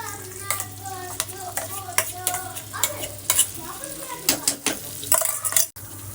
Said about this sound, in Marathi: याला मी फ्राय करून घेते थोडंसं एक दोन मिनिट